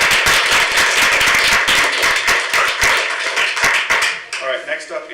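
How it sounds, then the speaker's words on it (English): Audience at a city council special meeting clapping briefly, a burst of distinct close claps that thins out and stops, followed by faint shuffling and a few murmurs. "clapping after each one."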